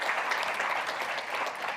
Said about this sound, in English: a big round of applause for all of you helping to make this all possible